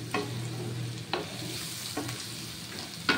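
Bengali yam curry with dry chilli powder sizzling steadily in a pan, with a few distinct scraping stirs of a spoon spaced about a second apart over the frying hiss.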